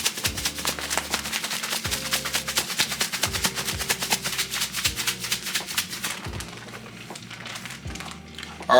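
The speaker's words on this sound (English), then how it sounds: "We're gonna dip it in the butter, and then we're gonna put it in the bags and shake them up." Butter-dipped walleye chunks shaken hard in a bag of breading, a dense, continuous rustle and crinkle of plastic with soft thumps of the fish chunks throughout, close and fairly loud, with no talking.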